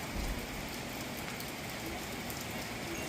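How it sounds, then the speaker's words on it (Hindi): Steady rain pours down outdoors over a city decorated with lights for Milad-un-Nabi, a dense unbroken hiss of drops on surfaces, loud and close, with no pauses. "कितनी प्यारी वाली बारिश हो रही है।"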